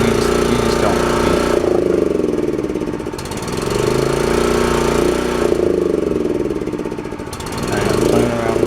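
A Honda generator engine runs loudly and close after a pull start, rising and falling in pitch as the throttle is worked while it is not fully choked.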